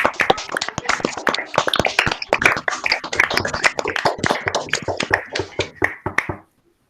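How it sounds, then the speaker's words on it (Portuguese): Clapping from a few participants with open microphones at the close of an online physics lecture, sharp uneven claps overlapping for several seconds before cutting off abruptly. "A todos os colegas aí que abram o microfone para aplaudir a palestra."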